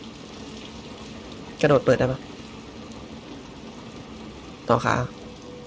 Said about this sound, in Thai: พามันไปวิ่งเปียกฝนเล่น